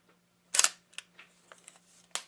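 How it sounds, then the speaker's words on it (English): A film camera's mechanical shutter, a wannabe-Leica style body, fires with a loud sharp click, followed by several fainter clicks and a final crisp snap near the end, heard alone over a low steady hum. "Okay, so we'll set the shutter again."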